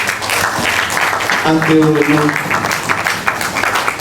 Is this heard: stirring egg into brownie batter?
no